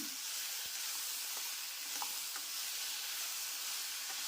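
Tomatoes with a teaspoon of salt fry in oil for radish chutney, a steady close hiss of sizzling broken by light scraping stirs and small pops, with no talking.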